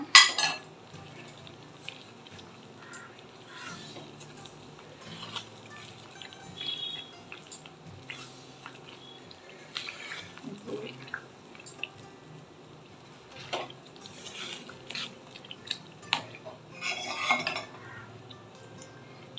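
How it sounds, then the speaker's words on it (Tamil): A ghee-rich Mysore pak mixture is stirred in a pan, giving soft, irregular scraping and clinking of utensil against metal, close but fairly quiet and continuing throughout. "கைவிடாமல் கலந்து விடுங்க."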